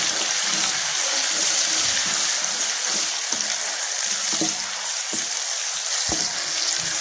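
Tomatoes frying in a pan with garlic ginger paste for a potato egg curry, a steady loud sizzle running throughout with occasional stirring knocks of a spoon, close up.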